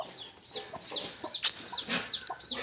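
At home, a hen clucks softly among her newly hatched chicks, whose rapid high peeps repeat throughout. The sounds are fairly faint and close, with no talking.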